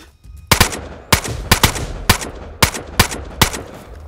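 Gunshots in DayZ Standalone crack out as about seven loud, sharp reports, spaced irregularly over a few seconds with quiet gaps between.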